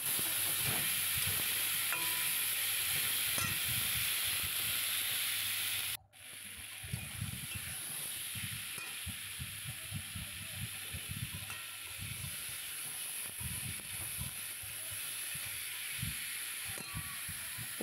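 Raw mango pieces and three or four green chillies fry in a pan as they are stirred, giving a steady sizzle with soft scraping strokes. The hiss cuts out briefly partway through, then resumes at the same level.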